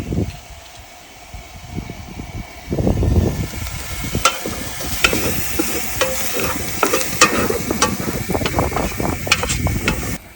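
Garlic sizzling in a pot for a one-pot risotto, cooked outdoors by a lake on a summer night: a steady close frying hiss with repeated scraping stirs of a utensil against the pot, growing busier after a few seconds.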